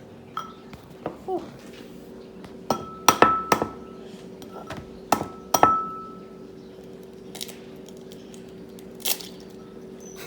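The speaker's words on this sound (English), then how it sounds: "My favorite part, cracking the eggs, rompiendo los huevos." Eggs cracked against a pan edge for a scramble on a stove heated to medium, several sharp clinking knocks with a sizzling hum beneath and a brief exclamation from a voice.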